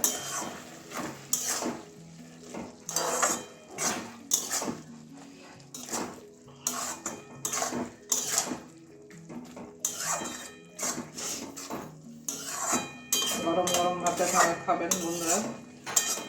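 A spoon scraping and clanking against a pan while snail and water spinach curry is mixed, irregular metallic knocks and stirring bursts with brief pauses, close and moderately loud, a faint sizzle beneath.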